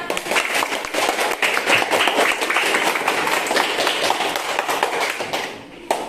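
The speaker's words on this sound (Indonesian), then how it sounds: "tepuk tangan untuk Kevin." Dense, steady clapping from a classroom full of students keeps going for several seconds, then tapers off near the end.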